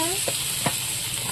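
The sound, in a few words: frying goby fish with yardlong beans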